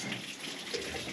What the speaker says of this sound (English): So the water was just pouring out of here